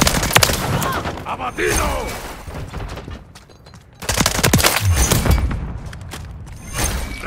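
Video game gunfire crackles in rapid bursts and heavy booms, with a short lull in the middle before the shooting resumes. A voice shouts briefly over the noise.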